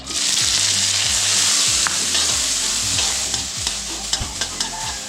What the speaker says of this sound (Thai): เมื่อน้ำมันปอฮ้อนนะครับเราก็ใส่จิงหีดน้อยเข้าไปนะครับ